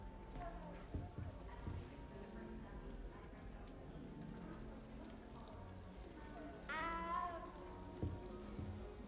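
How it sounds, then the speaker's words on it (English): In the Hogwarts Legacy game, a cat lets out a short, clear meow partway through, set against ambient game sounds and a person talking. "That cat sounds exactly like Potato."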